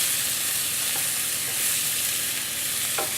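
A poor man's pizza topping mixture, cooked about three minutes, sizzles steadily in a pan with a constant crackling hiss and faint scraping stirs, close and even throughout.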